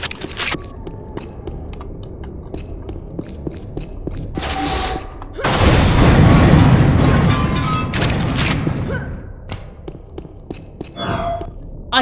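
A weapon in the video game Unreal firing shotgun-like blasts: a heavy roaring burst of gunfire in the middle over steady game noise, with scattered shots and keyboard clatter before and after.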